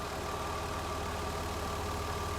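Car engine running at steady idle during an oxygen sensor test, a constant close mechanical drone with a low hum throughout and no obvious RPM swings.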